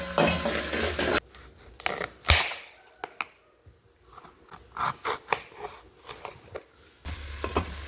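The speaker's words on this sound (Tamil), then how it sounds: "கட் பண்ணி வச்ச ஆனியனையும் சேர்த்து வதக்கணும்" Chopped onions tossed and sautéed in a pan with dried red chillies, for an okra stir-fry; scraping and stirring strokes come in irregular bursts over a low sizzle, close and fairly loud, with louder stretches at the start and end.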